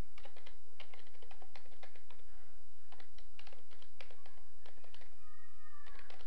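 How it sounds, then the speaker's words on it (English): Typing on a computer keyboard up close, a quick irregular patter of key clicks running throughout, with a cat meowing briefly near the end. "I can't talk and type at the same time"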